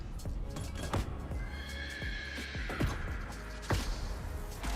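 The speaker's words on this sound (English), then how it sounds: "I assume that's supposed to be a horse noise." A video game horse whinnies in a long wavering call over busy background noise, with hoof-like clopping and thumps around it.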